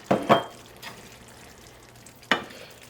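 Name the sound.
calico scallops added to a hot pan, sizzling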